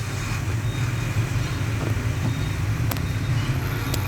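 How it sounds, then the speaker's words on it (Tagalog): A motorised tricycle rides through road traffic toward Baclaran, a continuous close engine rumble mixed with wind and traffic noise, with a couple of faint sharp clicks. "Sakay na tayo sa tricycle mga guys pa Baclaran."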